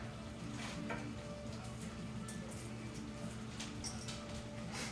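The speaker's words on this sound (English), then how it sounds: "I'm going to go ahead and break this bacon up down in the bottom of it here" Bacon broken up in a pan with eggs gives off a soft, steady sizzle with a few faint scraping touches, low and close but fairly quiet throughout.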